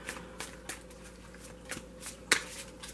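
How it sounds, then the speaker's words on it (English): Tarot cards shuffled by hand in a quiet room, a series of short crisp riffling bursts with one sharper snap near the end. "I've already pre-shuffled these three times"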